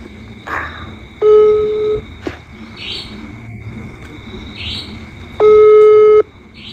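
Outgoing phone call on a mobile, ringback tone sounding twice as steady long beeps roughly a second each, several seconds apart, with no answer, over a faint background hum.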